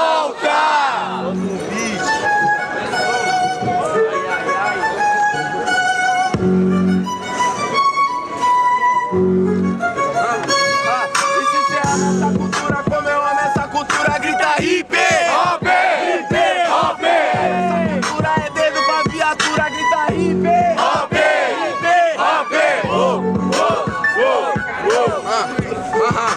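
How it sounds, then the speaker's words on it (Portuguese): Audience at a Brazilian freestyle rap battle semifinal, the Batalha dos Estudantes, cheering and shouting loudly and continuously in a dense, roaring crowd with rhythmic bursts of chanting throughout. "Barulhos, barulhos pro Yoga"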